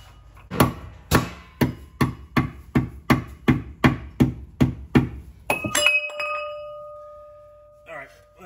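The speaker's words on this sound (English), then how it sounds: "might get a hammer and knock this screwdriver in to get it out" Hammer blows knock a screwdriver out of a BMW coilover during a suspension install, about a dozen loud, evenly spaced metallic strikes, followed by a ringing clang as the part comes free and a faint rattle at the end.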